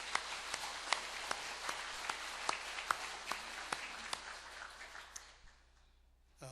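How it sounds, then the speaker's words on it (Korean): A church congregation claps in encouragement, a steady run of sharp hand claps at moderate distance that fades out near the end, with no talk over it. "우리 감사하는 마음으로 박수 한번, 격려 박수 한번"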